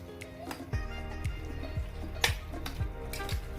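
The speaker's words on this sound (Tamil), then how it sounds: "இப்போ நான் ஒரு எக் ஆட் பண்ண போறேன்." An egg is stirred into a frying chicken dish in a pan, giving a soft steady sizzle broken by regular scraping strokes of a utensil against the pan, fairly quiet and close.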